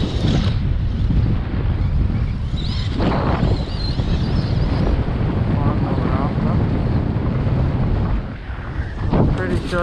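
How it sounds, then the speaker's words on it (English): Strong beach wind buffets the microphone in heavy, uneven gusts of low roaring rumble that nearly drown out a voice talking through it. "sure you hear that in the mic, but this wind is just ridiculous."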